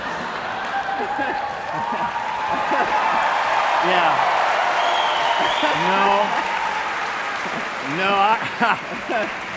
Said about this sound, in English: I'm not impressed that you're cheering.